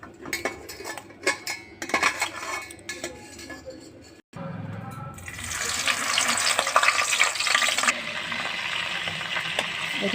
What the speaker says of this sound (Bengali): এটা ভেজে নিচ্ছি